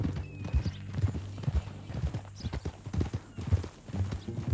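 Horse hooves clip-clop at a steady walking pace in Red Dead Redemption 2, close and moderately loud over a low background hum, with snorts and no talking.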